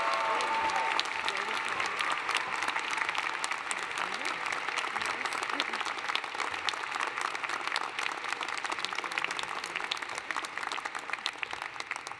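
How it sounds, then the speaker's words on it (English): Steady, sustained applause from a commencement crowd welcoming Shekube Danlade on stage, a dense wash of many hands clapping at a distance that continues evenly for about twelve seconds. "please help me welcome, with a round of applause, Shekube Danlade on stage"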